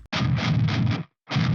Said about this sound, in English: I've added in this extra low guitar over here that sounds like this